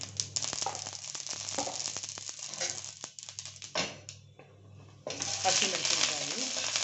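Mustard seeds sizzle and crackle in hot oil in close-up, with a steady frying hiss, scattered sharp pops and scraping, a brief dip in the middle and then a louder burst of sizzling.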